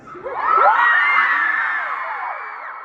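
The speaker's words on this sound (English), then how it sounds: "a crowd of people super excited." An excited crowd at a live show, likely a Sturniolo Triplets tour concert in Denver, screams and cheers loudly, a dense shrill wall of high voices whooping that swells quickly and holds steady throughout.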